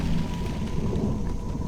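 Thunderstorm with steady heavy rain, a continuous dense wash of rainfall with low rumbling underneath, loud and close throughout without speech.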